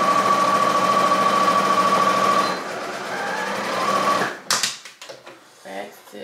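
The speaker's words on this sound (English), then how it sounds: "So I'm going to sew this dart seam down." A home sewing machine stitches down a dart seam on a two-piece set, a steady fast whirring run for several seconds before it stops, followed by a few short handling clicks and rustles.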